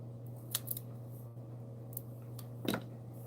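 Scissors cut through card-making paper in a few short, crisp snips spread across a quiet room with a steady low hum beneath. The cuts are close and fairly faint, and no one speaks.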